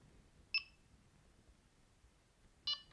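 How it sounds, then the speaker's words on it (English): Two short, high electronic beeps about two seconds apart from a Txi-D device at beep speed level 1, faint against a quiet background with no talking. "Okay, did you hear that? It gave a little beep."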